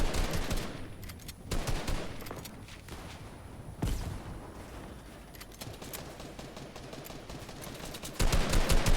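Rapid bursts of gunfire from a Fortnite solo match ring out in quick clusters throughout, with a louder volley near the end, and no talking.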